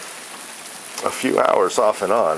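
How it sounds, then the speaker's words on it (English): Cold morning rain falls on the Appalachian Trail between Erwin, Tennessee and Damascus, Virginia, making a soft, steady hiss that is heard alone at first, then continues under a man's nearby speech. "It's about 9 o'clock in the morning now, and it is raining"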